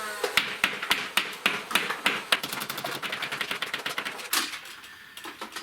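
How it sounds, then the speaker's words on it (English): Nerf Hyperfire blaster emptying a full dart drum, a rapid run of sharp, close clicking shots in quick succession that loosens slightly before stopping. "we got a Hyperfire, and it came with a drum that's actually full of darts. So, we'll just see if we can't rip through this real quick."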